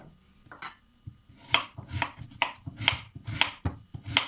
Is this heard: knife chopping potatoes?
yes